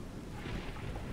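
Steady rain with a deep, rolling rumble of thunder, dense and continuous, with no voices over it.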